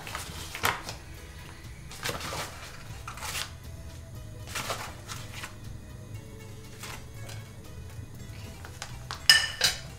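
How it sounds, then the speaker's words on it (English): A whisk or spoon stirs flour into melted butter in a pan for a white sauce, making scattered scraping and clinking strokes over a low kitchen background. The sound is close but fairly soft, and there is no speech. "Now we just need to stir quite quickly so the butter doesn't start to burn."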